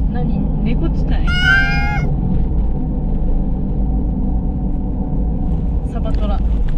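A silver tabby cat gives a clear, drawn-out meow near a street, loud over a steady low rumble of passing traffic, with a few fainter chirps later and people talking nearby.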